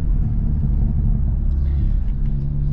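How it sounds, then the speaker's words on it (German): A Hyundai i30N Performance drives to warm up, its engine giving a steady, loud low rumble with road noise from inside the cabin. "jetzt fahren wir das Fahrzeug mal warm und schauen, ob Start-Stopp jetzt funktioniert."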